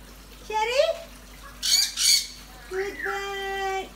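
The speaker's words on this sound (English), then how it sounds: "Good bird. Gorgeous." A pet bird squawks in three bursts: a rising call, a harsh double screech, then a long sustained whistling squawk, close and loud in a quiet room.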